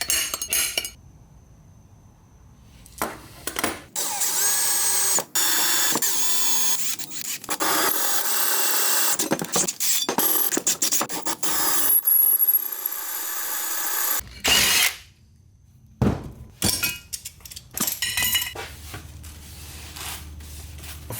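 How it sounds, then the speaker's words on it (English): A drill bores new 4x100 lug holes into a wheel hub in a series of loud whining bursts separated by pauses, with metallic clinks and tool handling between them. "we have to re-drill a lug pattern on here that is the 4x100 that we need."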